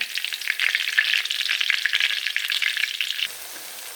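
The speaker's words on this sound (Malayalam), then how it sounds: "ഞാൻ ഇതിലോട്ട് 2ാമത്തെ ട്രിപ്പ് ഉള്ളിയും കൂടി മൂപ്പിക്കാൻ ഇട്ടിട്ടുണ്ട്" Onions for mutton biryani frying in hot oil, a dense steady sizzle with crackling bursts that drops a little softer near the end, close and alone with no voices.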